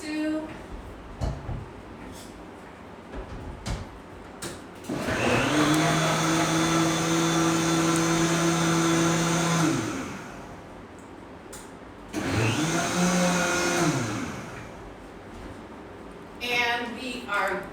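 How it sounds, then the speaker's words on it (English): A blender purees dessert ingredients in a kitchen, whirring loudly for about five seconds, stopping, then running again in a second shorter burst, with people talking in the gaps between runs. "I prefer to make it in the blender because it goes so much faster"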